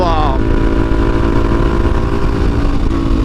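Suzuki DRZ400SM motorcycle engine droning steadily while riding through the desert, a constant close, loud hum with wind-like noise throughout.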